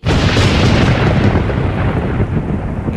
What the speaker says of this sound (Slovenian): Ne boj se gromenja.